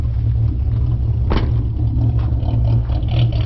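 A Ford Mustang 4.0 V6 engine with no catalytic converters idles steadily around 725 RPM with a low, even rumble, close by, and one brief clattering knock partway through.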